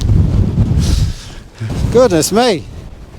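Strong gusts on an exposed upper ridge buffet the microphone with heavy low rumbling, which drops out briefly before a person's voice exclaims close by.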